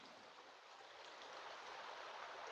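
River flowing beside a roadside in Homer, Alaska, a faint, steady broadband rush of moving water heard from a distance, swelling slightly toward the end.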